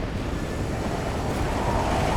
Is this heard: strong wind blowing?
yes